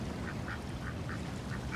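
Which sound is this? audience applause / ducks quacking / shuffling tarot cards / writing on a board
ducks quacking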